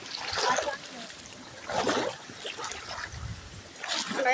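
Flood water running over a rural road during heavy rain in Wayanad, with repeated bursts of splashing and sloshing close by as someone wades through it, while people talk over the water.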